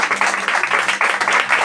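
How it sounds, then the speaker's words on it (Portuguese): Church congregation clapping steadily and together during a worship service, a dense, continuous patter of many hands filling the room with a slight rhythmic pulse. "Bate palmas para Jesus,"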